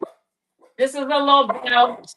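A small dog gives a few short barks and yips close by indoors, mixed in with a woman's speech.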